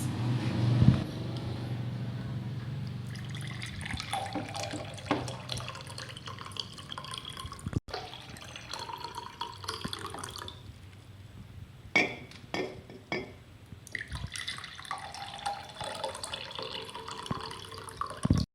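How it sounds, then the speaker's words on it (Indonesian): Water poured into a drinking glass during a simple fluid experiment, a long trickling and splashing pour with occasional drips and light glass clinks, fairly close and steady. "Pertama-tama kita masukkan air terlebih dahulu ke dalam gelas."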